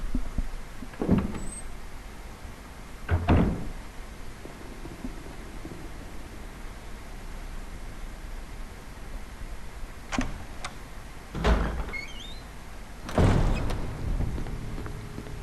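Occasional door sounds in the Resident Evil Remaster mansion: a few sharp clunks and creaks spread across a quiet stretch, with soft ambient hiss in between.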